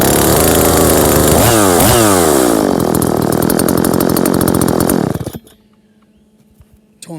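A small two-stroke chainsaw engine, an Oleo-Mac 941 CX or a Ross 38cc, roars loudly up close and revs up and down several times before cutting out, leaving near silence and then a brief noise at the end.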